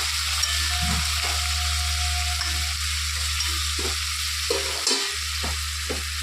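Frying fish in a pan sizzles steadily as water mixed with turmeric and salt is poured in, a loud continuous hiss with brief scraping and a short break near the end.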